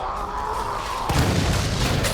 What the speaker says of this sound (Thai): ถังแดงๆเนี่ยน่าเป็นถังระเบิดจากสัญญาณเกมเมอร์แล้ว รอมันเดินมาใกล้ผมยิงมันดู